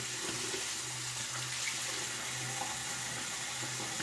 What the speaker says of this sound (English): getting some warm water through the tap, it will take a moment.